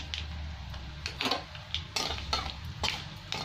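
Black mustard seeds, salt and turmeric dropped into hot oil for fried flattened rice give a faint sizzle, broken by several sharp scraping stirs and clinks of a utensil against the pan.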